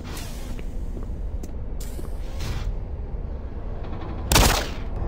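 Weapon fire in the video game Doom 3, a few sharp, separate shots, with the loudest and closest burst near the end, set against a low background rumble and mechanical creaks.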